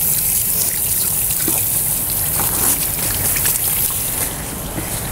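Water running steadily in a microbiology laboratory as a wound is washed, a continuous trickling splash that stays constant throughout, with no talking.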